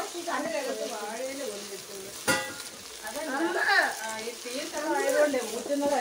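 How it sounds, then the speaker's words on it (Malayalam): Onions and mutton sauté in a pan for mutton biryani, giving a steady frying sizzle with one sharp utensil knock, all under continuous talking. "നമ്മുടെ ഉള്ളി ഇറച്ചിയുടെ ഇങ്ങനെ വഴണ്ടുകൊണ്ടിരിക്കുകയാണ്"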